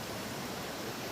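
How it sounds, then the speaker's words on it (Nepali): A waterfall roars as a dense, steady hiss of falling water, unbroken and enveloping, with no voices over it. "झरना छ।"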